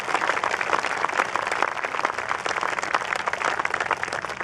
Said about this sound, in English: Please join me in giving everyone a round of applause for that.